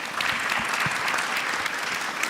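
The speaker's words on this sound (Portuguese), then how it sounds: "vamos dar uma salva de palmas para eles." Steady audience applause at an event, a dense even patter of many hands clapping continuously throughout at moderate level.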